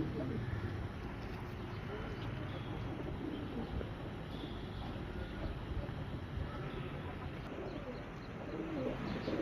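A pair of Sialkoti Chapra pigeons coo softly in a low, murmuring rhythm. The coos are quiet and sit within a constant background hum.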